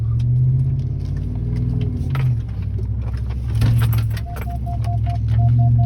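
A Ram 1500 pickup in 4-wheel low rumbles slowly over a deeply rutted trail, with a steady low engine drone, creaks and jangling rattles from the truck throughout.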